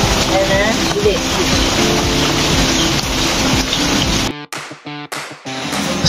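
Heavy rain pours down steadily as a motorbike rides through a rural province, a dense broadband wash that fills the first part before breaking into choppy gaps near the end.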